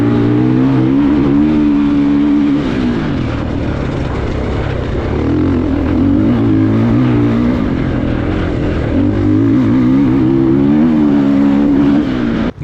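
A Triumph TF 450-E enduro motorcycle ridden under load, its single-cylinder engine a loud, close, continuous drone with rising and falling pitch as the throttle changes.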